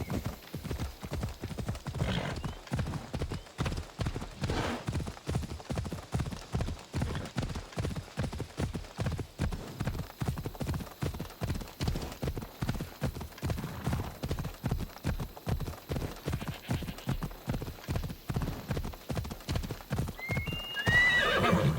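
A horse in Assassin's Creed Odyssey gallops with steady, rapid hoofbeats running close and loud throughout, then gives a brief high whinny near the end.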